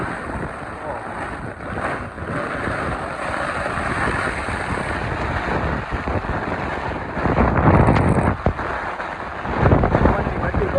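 Heavy monsoon rain and gusting wind outdoors in Surat, a dense steady roar with wind buffeting the microphone, swelling louder near the end, close and loud.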